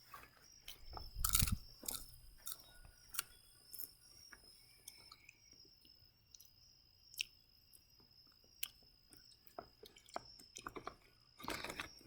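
Close crunchy bites and chewing of popcorn, irregular and sharp, with a faint high insect-like chirp behind and quiet stretches between bites.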